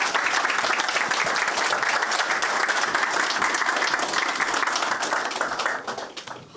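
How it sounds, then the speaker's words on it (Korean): Sustained audience applause at a business roundtable forum, dense and steady clapping from a full room that holds at one level before tapering off near the end. "뜨거운 박수 부탁 좀 드리겠습니다"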